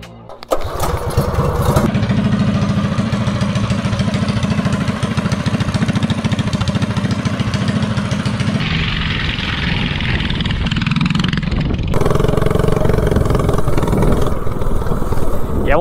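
Minibike engine fitted with a VM22 carburetor and a small 95 main jet runs loud and close, buzzing at a steady idle, then rising and falling in pitch as it is revved, with a rougher stretch near the end.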